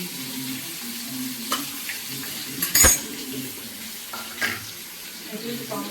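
Butter and refined oil sizzle steadily in a hot pan, a soft continuous hiss broken by a sharp clatter of utensils near the middle and a few lighter knocks.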